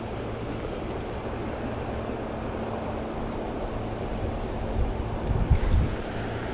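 Broad, steady rushing water from river rapids at a trout fishing spot, mixed with wind buffeting on the microphone and a few louder low thumps near the end, with no talking.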